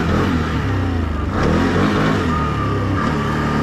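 A Can-Am off-road vehicle's engine revs loud and close, a continuous throaty roar that rises and falls in pitch across the whole stretch with no talk over it.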